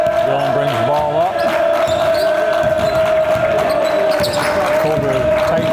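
A basketball is dribbled up the court in a high school boys game between Bethlehem Academy and Triton. Regular bounces ring out over a gym hum, crowd murmur and voices.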